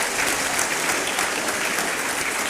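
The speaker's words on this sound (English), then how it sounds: "a round of applause for them and for yourselves" An audience at a national dialogue forum claps in a dense, steady round of applause throughout, loud and close, with no voices over it.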